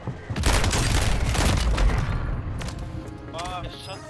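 Rapid heavy gunfire from an overpowered two-shot pistol in Call of Duty Warzone, a loud dense burst of booming shots dominating the first two seconds, then fading into scattered game effects.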